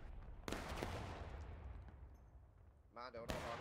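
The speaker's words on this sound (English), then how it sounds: "keep shooting forward" Muskets fire in the Civil War game War of Rights during a large historical battle event. Sharp reports crack at intervals over a rumbling background of distant volleys, and a voice calls out briefly between the shots.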